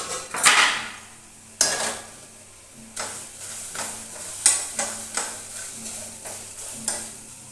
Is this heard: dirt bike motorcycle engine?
no